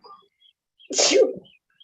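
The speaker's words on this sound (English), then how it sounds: "Gesundheit to whomever is sneezing." A single loud sneeze bursts out close by in an otherwise quiet room.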